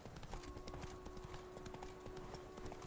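Steady clip-clop of horse hooves on a path while riding in The Witcher 3, a brisk even rhythm under faint ambient game sound with a quiet tonal hum.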